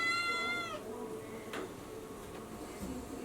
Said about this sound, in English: Look like the cat from Sabrina